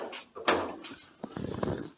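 The door of a 1932 Ford five-window coupe opens in a workshop: a soft latch clunk, then a brief scraping creak of the hinge, quiet and close by.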